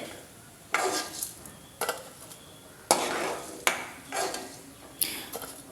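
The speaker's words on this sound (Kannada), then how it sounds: "ಉದ್ದಿನ ಬೇಳೆಯನ್ನು ಹಾಕಿ ಇದನ್ನು ಕೂಡ ಚೆನ್ನಾಗಿ ಹುರಿದುಕೊಳ್ಬೇಕು" Urad dal roasts in a pan, with a spoon scraping and stirring in sharp, separate strokes about once a second over a faint dry sizzle.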